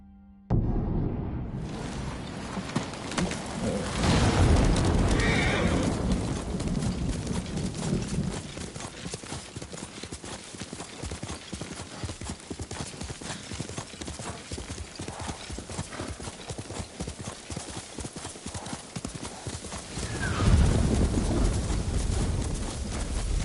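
The horse Kage in Ghost of Tsushima gallops with steady, rhythmic hoofbeats throughout and whinnies loudly near the start and again near the end, close and prominent.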